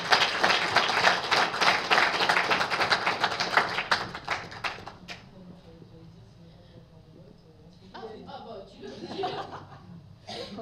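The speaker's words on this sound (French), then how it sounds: "Moi, je crois qu'on peut les applaudir." Audience applause fills a room at a business network launch event, a dense burst of clapping with some chuckling for about five seconds, then fading to scattered claps and murmured voices.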